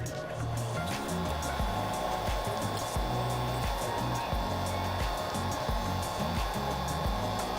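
A hair dryer blows steadily on an iPhone 7 home button to soften its adhesive, a loud continuous whoosh with a pulsing low motor tone that holds at an even level throughout.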